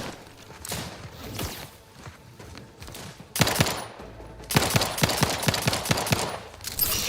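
Gunfire in The Outer Worlds 2 video game cracks out in rapid volleys of close, loud shots, with sparse bursts early and dense rattling fusillades in the later seconds.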